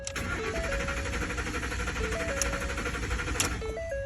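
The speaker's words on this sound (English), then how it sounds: "So crank, no start." A 2013 Ford F-150 King Ranch with a no-start fault cranks steadily for about four seconds without catching, a continuous churning drone heard alongside a tonal melody.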